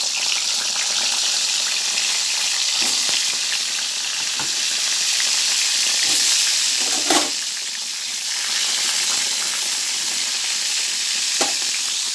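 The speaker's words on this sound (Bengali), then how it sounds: "বেগুন ভাজা বসিয়ে দেবো।" Eggplant slices frying in hot oil for a vegetarian festival menu, a steady close sizzle with a few soft clicks of a spatula or pan, no talking.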